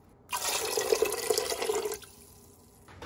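Water pours steadily into a pressure cooker holding chickpeas, a close, loud rush lasting about a second and a half before it stops, leaving quiet room tone.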